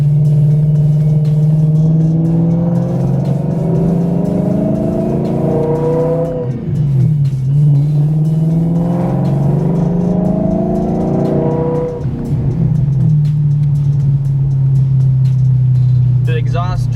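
Supercharged BMW E92 M3 engine revving steadily and loudly up close, a droning exhaust rising and falling in pitch with a faint supercharger whine buried beneath, while people talk over it.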